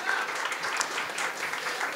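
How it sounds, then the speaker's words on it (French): An audience applauds at the opening of a sports exhibition; dense, steady clapping from many hands across the whole stretch, moderately loud, with some voices mixed in. "Et on peut l'applaudir, effectivement."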